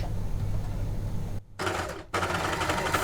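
Janome overlocker stitching against a folded edge, a close, fast buzzing rattle that cuts out briefly twice before running on again.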